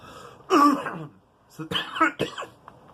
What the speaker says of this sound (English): I have a really bad cough.